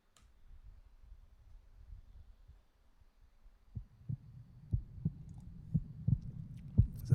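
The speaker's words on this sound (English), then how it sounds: "It's a heartbeat." In a 2018 music video by a Japanese band, a heartbeat starts as a faint low throb and grows into steady, louder thumps, evenly spaced over a low hum.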